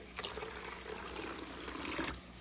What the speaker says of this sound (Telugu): మళ్ళీ ఈ నీరు దోశ పిండిలో 1 కప్పు వాటర్ కూడా వేయాలి